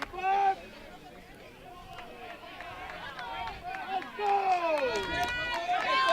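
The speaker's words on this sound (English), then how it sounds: "Hortonville crowd gets loud again" The Hortonville crowd at an amateur Dairyland League championship baseball game cheers loudly, with whistles and rising shouts swelling toward the end while a commentator talks over them.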